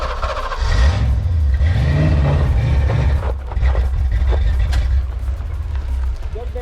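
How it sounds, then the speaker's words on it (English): A Ford Mustang Foxbody GT that sat for 19 years revs loudly and unevenly, the engine note rising and falling with a lean backfire through the intake, with people talking over it. "it was a lean back fire through the intake"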